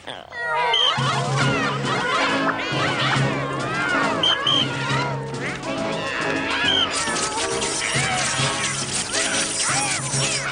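Cat meowing repeatedly, loud and close, over busy background music and noise, with occasional crash-like hits throughout.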